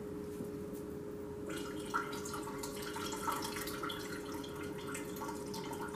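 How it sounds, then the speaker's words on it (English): Pineapple juice poured into a party punch of frozen orange juice and water, a soft steady trickle and splash that begins partway through and continues quietly under a constant low hum. "I'm going to add some pineapple juice"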